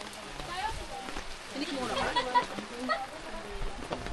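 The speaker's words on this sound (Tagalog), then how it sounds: "Lakas ng ulan. Sarap pala ng ulan dito." Steady rain hisses and patters on surfaces nearby while people talk over it.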